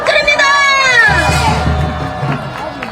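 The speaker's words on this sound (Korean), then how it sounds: "박수로 환영 부탁드립니다." A crowd at a Korean university students' rally cheers and whoops as a speaker is welcomed, loud voices rising together with shouting over a rumbling backdrop.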